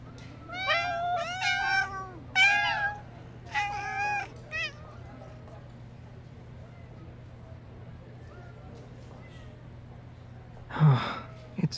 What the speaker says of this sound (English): it'd be even better to help me handle some of these kitties